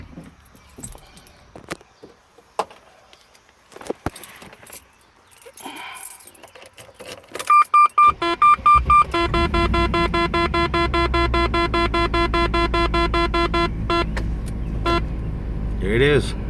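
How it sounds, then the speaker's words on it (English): A car's ignition is switched on with a few light clicks and a string of dashboard chimes, then the engine is cranked and settles into a steady low running hum, with a person talking in between. "I'll crank the car up."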